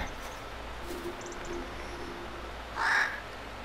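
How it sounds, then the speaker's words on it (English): A bird in the comedy video game Manual Samuel gives a single short caw-like call near the end over a faint, steady background hum. "Nice bird."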